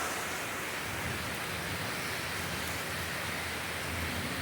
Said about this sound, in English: How much rain can one town take?